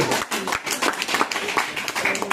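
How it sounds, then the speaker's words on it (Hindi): Brisk applause from a crowd at an Indian poetry recital, many hands clapping together at a steady, lively level with some voices underneath. "एक बार फिर से जोरदार ताली बजाइए"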